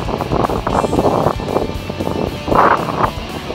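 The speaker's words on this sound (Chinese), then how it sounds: "突然起了大风，而且有一整片的雾" A sudden strong wind sweeps across a Cambodian island beach by the sea, battering the microphone in loud, uneven gusts and roaring rumbles with no voices.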